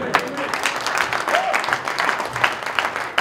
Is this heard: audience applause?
yes